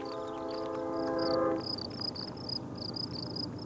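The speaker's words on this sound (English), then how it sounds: "Look at the train coming through town." A distant train rolls through a Nebraska town, opening with a sustained, chord-like horn blast that stops partway, followed by faint rhythmic squeals and clatter of wheels over a low rumble.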